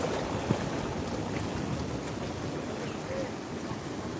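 Rising sea waves at Pangandaran beach make a continuous broadband wash and rumble, close and fairly loud, with no voices in it.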